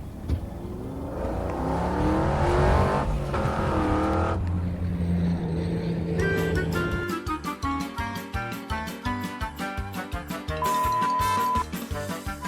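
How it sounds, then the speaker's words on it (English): A small Chevrolet Spark with a manual transmission, set up as a race car, drives with a steady engine roar and revving close up; a loud musical soundtrack plays over it the whole time, turning into strong rhythmic beats partway through. "So Justin, how does this little Spark hold up as a race car?"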